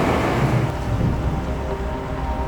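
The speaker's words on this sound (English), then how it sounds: "Oh, the rain is coming back." Rain falls on a city street as a steady broadband wash with low rumbling underneath, constant and fairly loud throughout, without voices.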